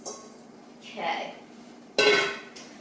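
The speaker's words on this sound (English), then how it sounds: "just lid back on and let it cook for another 5 minutes" A metal lid clinks back onto a pot of corned beef and cabbage on the stove. There is a soft scrape, then a sharper ringing clank, close by and fairly quiet.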